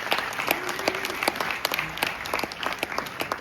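An audience at a fan expo panel claps loudly and steadily throughout, a dense crowd applause close to the stage with no speech over it.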